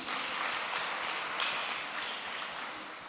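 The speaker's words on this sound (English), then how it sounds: "Clap for them once again." An audience claps steadily at a commissioning ceremony, a dense, even wash of applause close by that holds for a few seconds and eases slightly toward the end, with no talk.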